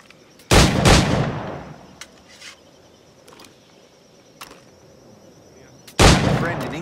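Gunshots from Assassin's Creed 4 Black Flag: two loud, close blasts at the start and another at the end, with fainter reports and rustling in between.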